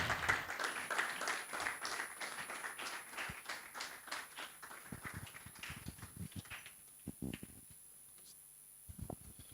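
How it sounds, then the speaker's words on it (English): A conference audience at a Nigerian grand-finale event claps to welcome a speaker, a burst of rhythmic hand claps that thins into scattered isolated claps and fades to near quiet. "Let's put our hands together as we welcome him to the podium."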